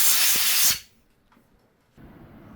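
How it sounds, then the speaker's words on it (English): Short loud hiss of compressed air blasting muck out of a threaded bolt hole on a 1983 Suzuki Katana motorcycle part, close up, lasting under a second before cutting off to near silence. "Just give it a little blast out with some compressed air."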